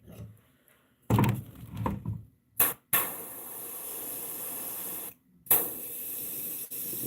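Airbrush spraying paint onto a koi fish swimbait, giving loud airy hissing bursts: a broken spurt, a short blip, then two long steady sprays separated by brief silences.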